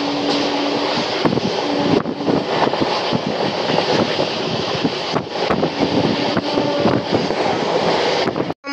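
An Amrit Bharat Express train runs at speed, a loud continuous roar of wheels and carriage rumble with wind rush and rattling joints, heard close from onboard and ending with an abrupt cut.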